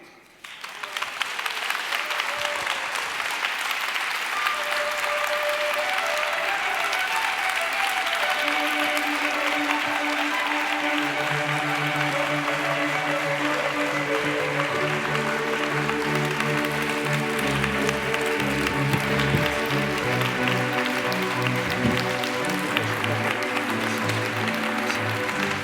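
Sustained audience applause at a law students' pleading contest prize ceremony, greeting the human rights prize winner; dense steady clapping fills the room for the whole stretch while music-like tones swell underneath.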